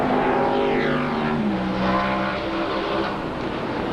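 NASCAR stock cars racing at Suzuka in 1996 roar loudly together, with engine whines sweeping in pitch as the pack passes and shifts, steady and dense throughout.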